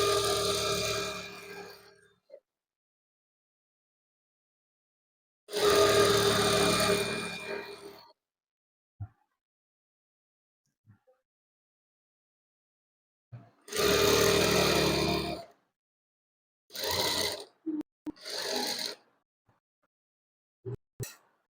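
A sewing machine stitches designer trousers in several separate bursts, two long runs of about two and a half seconds each and shorter runs later, with silent pauses and a few faint clicks in between.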